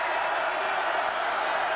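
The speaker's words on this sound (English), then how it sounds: "Oh, this crowd, there's a different sort of electricity running through Notre Dame Stadium today" A steady, dense roar from the crowd at Notre Dame Stadium during a Tennessee at Notre Dame college football game, continuous and even with no distinct voices standing out.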